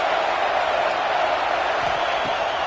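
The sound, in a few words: football stadium crowd cheering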